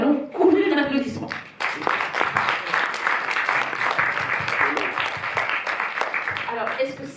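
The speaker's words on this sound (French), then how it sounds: "que nous allons couvrir d'applaudissements." An audience at a Paris cinema club screening of Fassbinder's "In a Year of 13 Moons" breaks into sustained applause, a dense steady clapping that follows and runs under a speaker's voice.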